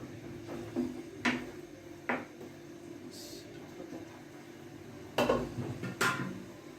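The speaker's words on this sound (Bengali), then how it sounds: "এদিকে আমি থাল বাসন কয়টা ধুয়ে নিচ্ছি" Plates and dishes being washed in a home kitchen give off intermittent clanks and clinks of metal and crockery, fairly quiet, set apart by short pauses.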